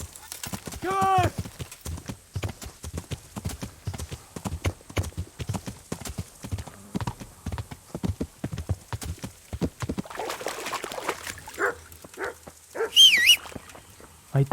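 Hooves of a horse in Kingdom Come: Deliverance clip-clop in a quick, steady rhythm close by, with a few bird-like chirps and a brief high whinny near the end.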